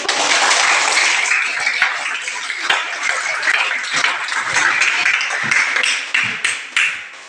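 A classroom of students claps steadily for a class presentation, dense continuous applause filling the room close by, thinning into a few final separate claps near the end.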